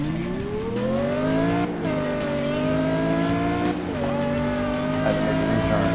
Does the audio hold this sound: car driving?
yes